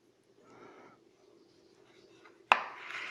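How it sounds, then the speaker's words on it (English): A knife cuts into a thick-skinned tree tomato with one sharp, close crunch near the end, after a stretch of quiet, faint handling. "I'm gonna cut one of these guys open and just show you the inside."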